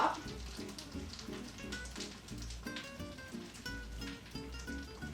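A cup and a quarter of dog-friendly beef broth is poured over a doughnut dog-treat mixture, a soft, faint trickling splash that runs on for a few seconds.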